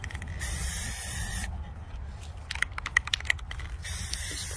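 An aerosol spray paint can coats glass jars in two long, loud hissing bursts separated by a pause filled with light clicks and taps of handling, then a final spray resumes.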